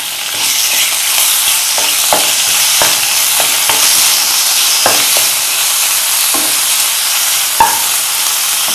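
Boneless chicken pieces fry with garlic in a pan, giving a loud continuous sizzle with scattered clicks and scrapes of stirring throughout, no voices.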